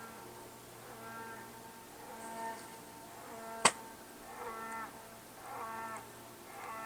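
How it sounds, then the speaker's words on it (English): Cattle lowing at a tree stand, several faint, drawn-out moos drifting from a distance over quiet outdoor ambience, with one sharp brief click in the middle. "Cows, apparently, if you can hear that."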